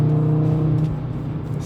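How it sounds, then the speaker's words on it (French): An Audi RS3 8V five-cylinder engine revs briefly, a loud, close burble that swells and eases over under two seconds with no voices. "clairement la mélodie du 5 cylindres"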